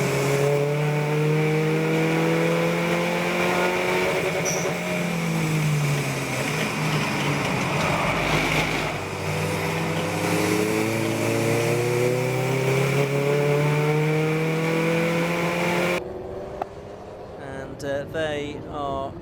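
Race cars circulate in an endurance race at the Anglesey coastal circuit, their engines droning steadily with rising and falling pitch through gear changes and corners, a continuous mechanical roar that cuts out near the end, leaving brief quieter sounds.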